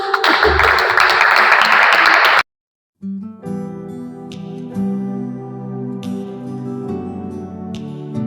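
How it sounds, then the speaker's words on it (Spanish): An audience claps and cheers at a Spanish gospel show, loud and close for about two seconds. The applause then stops dead and music begins. "Un aplauso."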